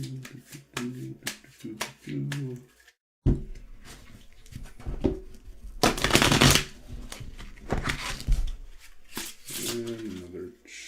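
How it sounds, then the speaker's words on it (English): A deck of playing cards is shuffled several times in quick riffling bursts, close and crisp, with a voice talking between the shuffles. "Another shuffle and shuffle and shuffle"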